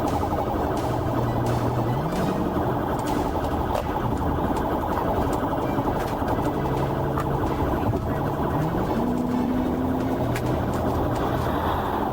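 A police car siren wails throughout a Florida traffic stop that turned into a chase, its rising and falling tone sustained and loud over heavy road and engine noise, with no talk.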